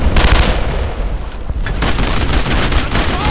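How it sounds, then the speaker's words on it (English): Sustained automatic gunfire and scattered shots from the World War II shooter Brothers in Arms roar loud and dense for the whole stretch, with bursts overlapping and no voices on top. "Taking fire! I'm under fire here!"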